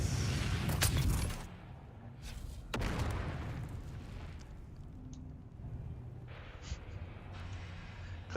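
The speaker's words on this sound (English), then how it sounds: "Oh, grenade! Grenade!" Grenade blast in the video game Dune: Awakening, a loud booming burst with rumbling decay, then a second thump and lingering low rumble under game ambience.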